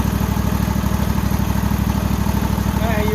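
An old tractor fitted with a power washer engine runs at a steady idle, a close, loud and rapid low putter with an even pulsing rhythm and nothing else over it.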